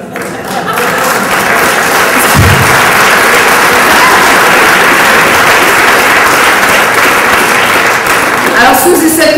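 Audience applause fills a hall during a speech, steady and loud for about nine seconds, with a broadband crackling texture and no voice over it.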